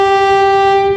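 A Pakistan Railway train sounds its horn in one loud, steady sustained tone lasting about a second, close and unbroken, with no voices.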